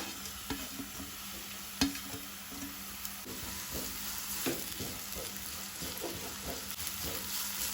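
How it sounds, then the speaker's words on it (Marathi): Finely chopped onion frying in about three spoons of oil for Goan chicken cafreal, with a steady hiss of sizzling and occasional spoon scrapes and taps against the pan, close and continuous. "एक कांदो हांवें बारीक चिरून घेतला, तो घालता हांव, एकदम बारीक चिरला।"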